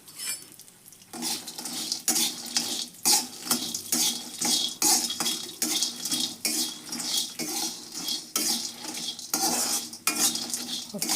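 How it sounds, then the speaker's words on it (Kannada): Whole garam masala spices roasting in a little oil while being stirred in a pan: a steady run of repeated metallic scrapes and clinks with a soft sizzle underneath, close and continuous. "ಇವನ್ನ ಒಂದು ಸ್ವಲ್ಪ ಎಣ್ಣೆ ಹಾಕಿ ಹುರ್ಕೊತೀನಿ ರೀ"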